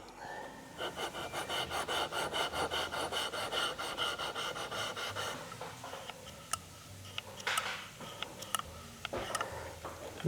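The anvil of Okatsune secateurs is rubbed flat across a sharpening surface in a run of about twenty close, even rasping strokes, then slows to a few scattered scrapes and light clicks.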